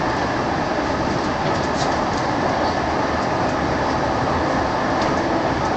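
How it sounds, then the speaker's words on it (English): A Siemens SD100 light rail train on the TRAX Blue Line rumbles loud and steady from start to finish, a dense continuous roar with no talk. "approaching to our left is a Siemens SD100."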